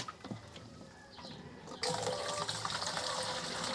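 About six liters of water pour into a sprayer tank for an organic odor spray. A faint trickle is followed by a louder, steady rushing fill that continues to the end, and no one talks over it.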